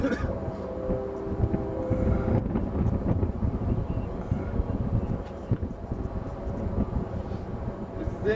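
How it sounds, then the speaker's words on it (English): Rotor wash wind rising as a helicopter approaches during work on a new UHF antenna in El Paso, a steady broadband rumbling roar that fills the whole clip, with low mechanical drone beneath and occasional gusts. "here comes the wind, so the copter must be"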